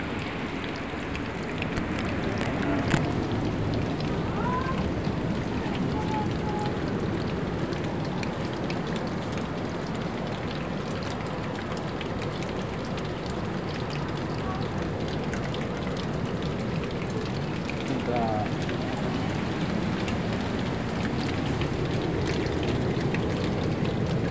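Clear water flowing naturally down a rocky cliff near a beach area, a steady broadband rushing and splattering that continues without pause for the whole stretch, with no one speaking.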